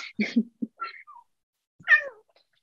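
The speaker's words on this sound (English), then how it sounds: "He's a Savannah, so he's a little bit more needy than a normal" A Savannah cat meows in short, close, clear calls: a cluster of brief chirpy cries, a pause, then one longer rising-falling meow, with no talk over them.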